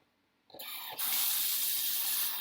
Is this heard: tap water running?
yes